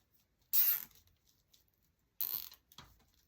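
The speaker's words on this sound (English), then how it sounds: "We're still going to do the same zip tie approach with 2 zip ties" Plastic zip ties cinched around lavender sprigs while making a flower wreath: two quick, close ratcheting zips separated by a pause, with a softer click trailing the second, in a quiet room.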